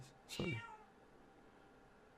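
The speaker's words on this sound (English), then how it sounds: "and then you just hear my cat fucking meow." A pet cat lets out a single brief meow, fairly close but quiet, followed by a low, steady room hum with a speaker's voice briefly audible.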